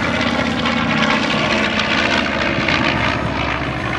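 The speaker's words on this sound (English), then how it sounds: "as the aircraft approached, first the B-25." A B-25D bomber, one of the earliest B-25 versions still flying, passes over an air show with a loud, steady propeller-engine roar that holds strongly throughout without letup.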